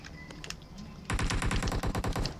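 Rapid automatic gunfire in PUBG, a few scattered shots at first, then a dense, loud burst of suppressing fire with fast regular cracks for over a second.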